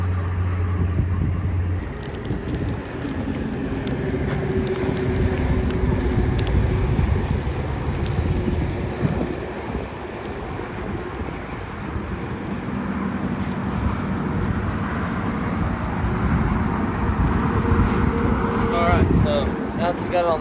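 A boat's engine runs at a steady low rumble after being launched at a boat ramp, continuous throughout while someone talks over it.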